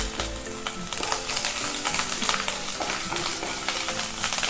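Chopped ginger fries in hot oil while being stirred for paneer masala, producing a close, steady crackling sizzle with frequent scraping strokes and no speech.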